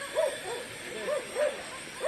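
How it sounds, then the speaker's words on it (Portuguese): Dogs bark in short, rhythmic bursts at a distance, with yips mixed in, beside a concrete slab-making site. "Olha os cachorros dando fé de nós aí"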